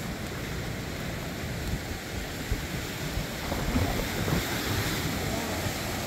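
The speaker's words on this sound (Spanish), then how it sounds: "Y eso que está el mar movido" Rough surf at Punta Sur on Isla Mujeres churns and washes in a constant broad rush, with gusty wind buffeting the microphone and swells surging a little louder toward the end.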